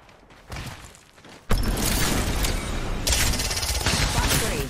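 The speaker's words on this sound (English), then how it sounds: "Valkyrie, launching missiles." Valkyrie's missile barrage in the Apex Legends video game erupts as a sudden, loud burst of rapid, overlapping explosive booms and crackling impacts that sustains for several seconds after a quieter lead-in.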